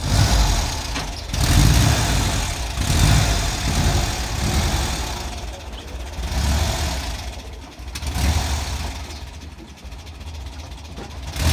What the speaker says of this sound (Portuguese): ligou o motor pra esquentar